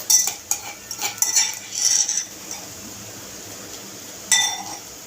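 A spoon clinking against a metal pan while mixing curry leaves and green masala of ginger, garlic and green chilies into eggplant curry, a quick series of bright metallic taps and scrapes, then one last clink after a pause.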